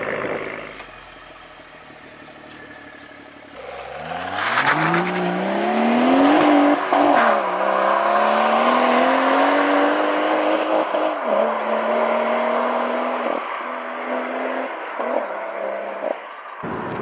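A BMW M140i with a manual gearbox revs up through the gears, its pitch climbing and dropping with each shift, steady and close as the car drives along.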